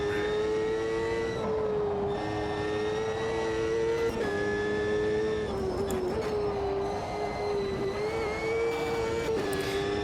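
A race car engine in Automobilista 2 holds a steady high whine that dips and swells as the throttle is worked, with brief gear-change blips, constant and fairly close.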